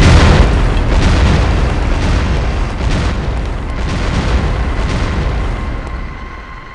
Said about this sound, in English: Didn't notice this huge explosion.